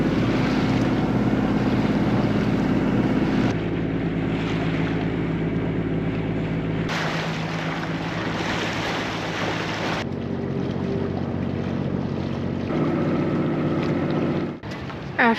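Sailboat motoring under engine at sea off the coast, a steady low engine drone mixed with rushing wind buffeting the microphone and water washing along the hull, loud and continuous.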